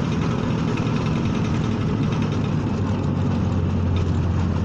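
A Vespa scooter engine drones steadily while riding, a close, constant mid-to-low hum with a buzzing vibration that holds even and unbroken throughout.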